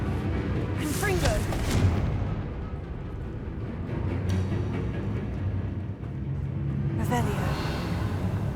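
Confringo blasting curse explosions in Hogwarts Legacy, loud booming bursts over a rumbling game soundscape, with a couple of sharp blasts and a voice speaking in the middle.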